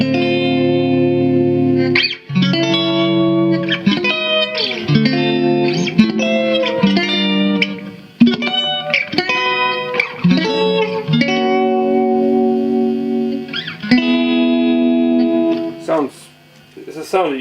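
Electric guitar through a Univox UC2 vibrato effect, loud, playing a long run of wavering chords and single notes with short pauses between phrases.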